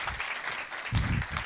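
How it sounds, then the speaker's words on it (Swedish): An audience claps warmly to welcome a speaker to the stage at a talk on Sweden's sustainable energy supply, a steady patter of many hands from a nearby hall crowd. "Tack för välkomnandet och den varma applåden."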